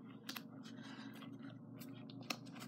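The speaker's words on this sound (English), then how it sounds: "Cut it till it's about to the hole." A few quiet snips of scissors cutting, short crisp clicks spaced irregularly over a faint background hum.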